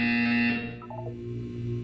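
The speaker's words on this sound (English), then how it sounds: "You will hear a buzzer." Buzzer in the video game Portal 2: a steady, harmonic electronic tone held for about half a second, then quickly dying away into a faint background hum.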